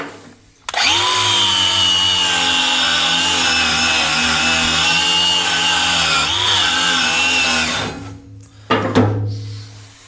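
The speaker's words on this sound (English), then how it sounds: "Now I'm going to wire wheel it." A wire wheel scrubbing a weld on new forks for a 1975 550 backhoe, a loud continuous whirring grind that holds for about seven seconds and then winds down.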